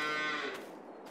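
A single cow moos loudly and close in a barn housing Brown Swiss and Holstein cattle in Farming Simulator 22. The call is drawn-out and tonal and fades off after about half a second.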